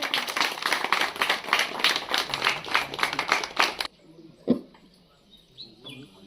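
Audience applause at a village ceremony, dense and continuous for about four seconds, then stopping abruptly, leaving quiet room noise and a single thump.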